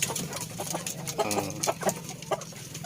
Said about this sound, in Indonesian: jantan KUB PPG umur 8 bulan nih